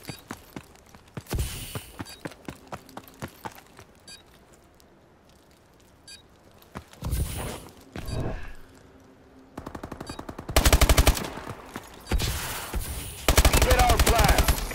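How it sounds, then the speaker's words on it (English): Rapid video-game gunfire from a capture-the-flag match comes in short bursts and long automatic volleys, growing louder and denser toward the end, with faint footsteps and beeps between the shots. "I got one bullet on him."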